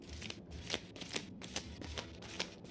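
Tarot cards being shuffled by hand in a soft, fast riffling rhythm of repeated flicks, close and quiet, with no talk.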